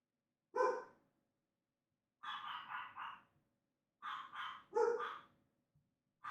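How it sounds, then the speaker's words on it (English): Dogs bark outdoors in short clustered bursts, clear and fairly close, with no talking over them. "Man, you hear that? Man, them dogs tripping, man."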